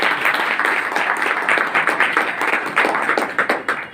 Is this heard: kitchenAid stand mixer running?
no